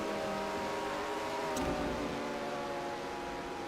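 Race cars in the Rolex 24 endurance race, a Porsche and a McLaren running side by side for the lead, give a steady, loud engine drone with layered harmonic whine that holds through the clip, one brief sharp high blip midway.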